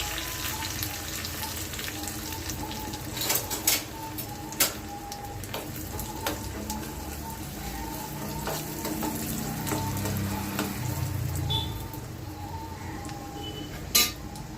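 Tempering for sambar with curry leaves and coconut, sizzling and crackling steadily in hot oil, with occasional clinks of a utensil against the pan and no talk.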